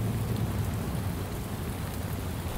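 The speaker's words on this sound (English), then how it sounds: "Back out into the rain." Steady rain pours in a city street in the detective video game Shadows of Doubt, a dense, even hiss of drops hitting the pavement all around, with no voices and no breaks.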